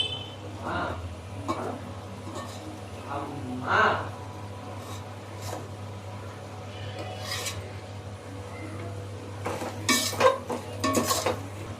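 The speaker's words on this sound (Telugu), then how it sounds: "నిమ్మకాయ పిండుకోవాలి పిండుకొని కలుపుకోవాలి" Chicken biryani being mixed with squeezed lemon juice in a pot, with scraping and clinking of a spoon against the metal in scattered bursts over a steady background hum.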